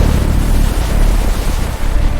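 Water rushing and blowing during a pressure wave from below, loud and continuous, a roaring wash of water and wind-like rumble with no voices over it.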